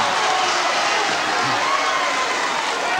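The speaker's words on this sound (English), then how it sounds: "The crowd loving it as you can hear." A packed crowd at a 1984 British wrestling match between Marty Jones and Dave Finlay roars and cheers in a loud, continuous wash of noise that fills the whole stretch without letting up.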